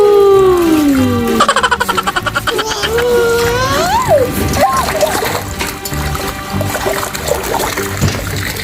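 A child splashes about in a mini pool filled with colored balls, water sloshing and dribbling close by while adults chat and there is a squeaky, playful sound throughout.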